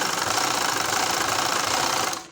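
A sewing machine runs fast, stitching the side seam of a frock with a continuous even whirr that stops abruptly at the end.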